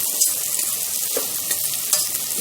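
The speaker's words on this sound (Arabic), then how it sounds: "عشان احمر معاها الشعريه بتاعتي" Steady, dense sizzling of vermicelli browning in hot oil, a continuous crackling hiss with small pops, close up.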